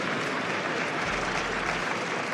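Audience at a League of Legends esports match applauding in a dense, steady wash of clapping that holds evenly from start to finish.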